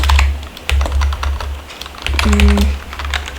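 Rapid clicking of a computer keyboard as code is typed in Roblox Studio: an irregular run of close, crisp keystrokes over a low steady hum, with no speech.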